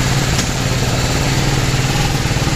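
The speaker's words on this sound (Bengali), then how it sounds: "ইঞ্জিন সাউন্ড তো হালকা চেঞ্জ হয়েছে বুঝলাম" A BMW G310 R motorcycle engine runs at a steady idle, loud and close, with a low continuous throb that stays even throughout and no voices.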